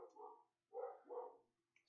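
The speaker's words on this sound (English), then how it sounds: "these dogs need to stop barking" Three quick, faint barks come from dogs in the video game Minecraft SkyFactory 4, spaced apart with short pauses and heard alone.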